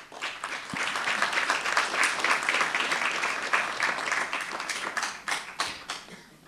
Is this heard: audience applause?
yes